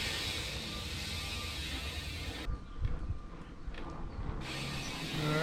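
A bicycle chain is fitted on a 2018 Kona Wozo bike, giving close mechanical ratcheting and clicking from the drivetrain over a steady background hiss, with no one speaking.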